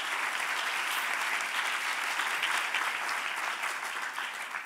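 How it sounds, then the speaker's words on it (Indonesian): Steady, dense applause from a church congregation during worship, filling the space evenly and continuously without a break. "Kita berikan tepuk tangan bagi Tuhan kita."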